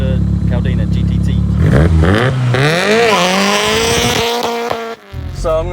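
A 1997 Toyota Caldina GT-T wagon accelerates hard, its engine climbing steadily in pitch through the gears, loud and close, before a brief drop and a quick return of revving, with people talking over it.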